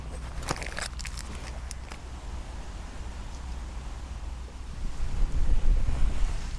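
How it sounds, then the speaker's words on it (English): Wind gusting outdoors in woodland, a steady broadband rush that swells louder toward the end, with a few faint clinks early on and no voices. "it's the wind picking up"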